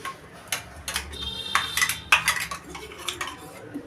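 Lentil batter scraped from a mixer jar with a metal spoon, several sharp clinks and scrapes against the jar in an irregular rhythm, close and fairly loud, with no talking.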